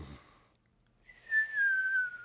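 A voice mimics a snore, then a thin, steady whistle that slides slightly downward for about a second.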